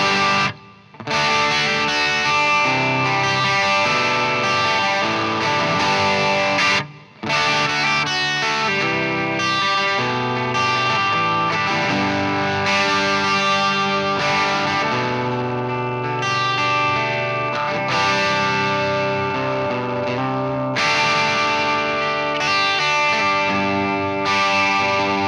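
Distorted electric guitar runs through a TC Electronic Ampworx Jims800 preamp pedal modeled on a JCM800 amp, giving crunchy sustained chords and riffs that play continuously, loud and alone, with two brief pauses.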